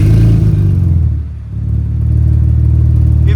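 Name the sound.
Ford Raptor engine revving with Flowmaster Super 50 exhaust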